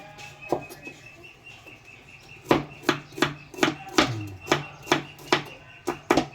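A knife chops onion and garlic on a cutting board, sharp close knocks at first sparse, then a steady rhythmic run of about ten evenly spaced strikes, with faint birds chirping in the background.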